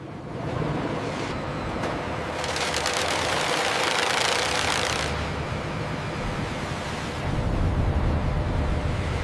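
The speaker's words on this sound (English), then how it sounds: "The logs are fed smoothly into the chipper" An industrial wood chipper in a toilet-paper factory chips logs, a heavy continuous engine drone with a harsh grinding, crunching surge in the middle as material is fed through, loud and close with no voices.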